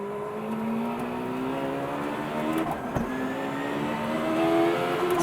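Czinger 21C High Downforce hypercar accelerating hard around a racetrack on a fast flying lap, a steady loud engine note with rising harmonic sweeps and a brief gear-change dip midway, no talking.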